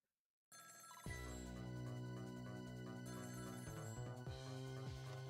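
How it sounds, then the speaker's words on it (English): A telephone rings steadily in the video game Ghost Trick, a bright electronic bell trill that repeats for several seconds at a constant level with no talk over it. "Every time that phone rings, it's bad news."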